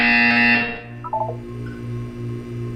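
A harsh electronic buzzer sounds once in a Portal 2 test chamber, a loud rasping tone lasting about half a second, followed by a few quieter beeps and a low hum.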